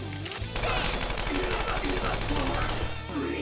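Rapid gunfire in the Persona 5 Royal video game, a dense burst of shots lasting a few seconds over game music, loud and close throughout.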